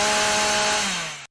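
Chainsaw cutting tamarisk in a southwestern riparian area gives a loud, close, sustained buzzing whine, its pitch sagging slightly as the blade bites, before it cuts off abruptly.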